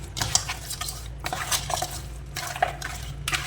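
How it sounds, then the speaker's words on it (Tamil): Fish curry is mixed in a pan, a spoon clinking and scraping against metal in short bursts over a low background hum, close by. "ஸோ இப்போ நல்லா மிக்ஸ் பண்ணிடலாம்ல."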